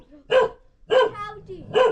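A dog in a rural village setting in Arghakhanchi, Nepal, gives three sharp, close barks spaced roughly evenly, with short quiet gaps and a faint whine between them.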